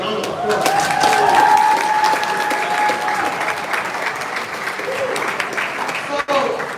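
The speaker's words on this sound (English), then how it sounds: "That deserves a round of applause." Indoor audience applause at a creators' meetup, loud and close, swelling then thinning over several seconds, with a voice talking over the clapping.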